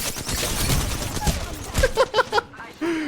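Gunfire in the battle royale game Apex Legends: rapid bursts of shots crackle close in a busy fight, followed by a few evenly spaced sharper pops, with a voice briefly speaking.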